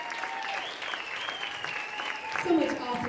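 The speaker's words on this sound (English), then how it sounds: "Give them all a big round of applause" An audience claps and cheers for belly dancers at a show in Costa Rica, a soft steady patter of applause running under a host's amplified voice, swelling slightly near the end.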